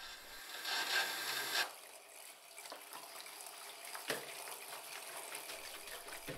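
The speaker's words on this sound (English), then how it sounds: "All I'm simply doing here is washing off any excess dirt that's on the tail." Tap water splashes over an animal tail as dirt is washed off during curing, with close rubbing and scrubbing sounds, louder gushing at first then softer wet handling, no talking.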